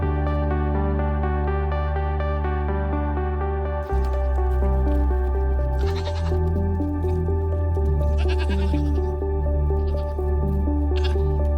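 Goats bleating loudly and repeatedly at close range inside a goat barn built from a shipping container, several overlapping calls over a steady droning background.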